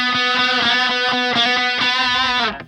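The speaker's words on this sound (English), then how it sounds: "So that part would have been double tracked." Double-tracked lead guitar in an 80s rock style, distorted and drenched in reverb, plays a sustained melodic line with bending, wavering notes that carry evenly before cutting off at the end.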